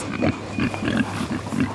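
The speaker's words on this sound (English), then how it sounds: "Those are the excited oinks of a small herd of pigs." A small herd of excited pigs in a wooded farm setting grunt and oink repeatedly, several short close snorts in quick irregular succession against outdoor background noise.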